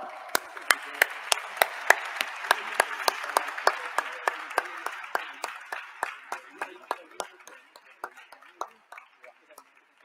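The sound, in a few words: audience applause at an award ceremony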